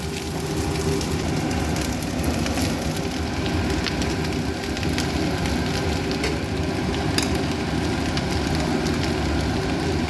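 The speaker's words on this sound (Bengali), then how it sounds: "আস্তে আস্তে সব রাইসগুলো আমি দিয়ে নিই" Cooked rice tipped into a hot pan for fried rice gives a continuous loud sizzle and crackle, like heavy rain on a surface, holding steady throughout.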